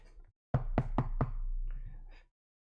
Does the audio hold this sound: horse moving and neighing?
no